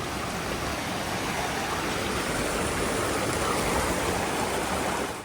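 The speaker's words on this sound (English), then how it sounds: "at the south side of Oat Ridge, we came across Oat Creek" Oat Creek on the Lost Coast Trail runs toward the ocean, giving a steady, dense rush of flowing water, close and unbroken throughout with no other sounds.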